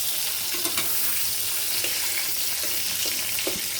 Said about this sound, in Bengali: আর এদিক দিয়ে জালিটাও আমি আজকে ভুনা ভুনা করব সরিষা বাটা দিয়ে